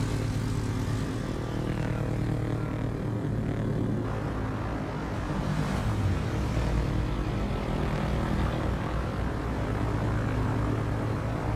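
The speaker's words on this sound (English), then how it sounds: "I'm gonna launch torpedo bombers." Torpedo bomber aircraft engines in the World of Warships video game, a steady propeller drone and roar that holds close and loud throughout without talk.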